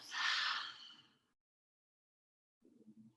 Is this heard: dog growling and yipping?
no